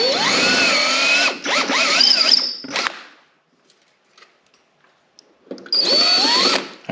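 A power drill fitted with a 3/16 bit runs in two loud, close whirring bursts with rising and falling pitch as it bites into a suspension part, and a short pause of near silence between them.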